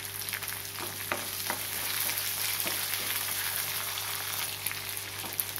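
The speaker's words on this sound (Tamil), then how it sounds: "சிவந்தோடனே தேங்காய் நல்லா ஃப்ரை ஆகட்டும்." Shallots and grated coconut fry in a pan with dried red chillies, giving a steady close sizzle with occasional stirring scrapes and crackles, no voices.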